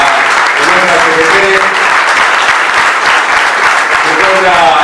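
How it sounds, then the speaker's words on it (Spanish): Loud, dense applause from a union gathering of workers, sustained clapping that fills the space, with voices and cheering mixed into the crowd noise. "pedimos un fuerte aplauso para él"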